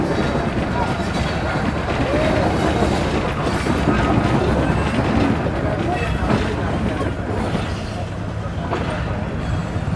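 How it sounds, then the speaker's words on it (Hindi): The Karachi Express rolling slowly around a sharp curve as it clears a platform, a loud, continuous rumble and rattle heard from on board, with indistinct voices mixed in. "Aahista Aahista train platform clear कर रही है"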